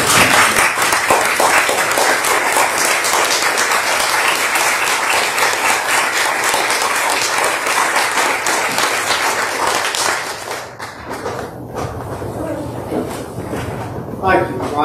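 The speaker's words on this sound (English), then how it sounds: "we need to stand up and give him a round of applause" A church congregation on Trinity Sunday applauds loudly and steadily for about ten seconds, a dense wash of many hands, then the clapping thins and fades into scattered claps and room noise.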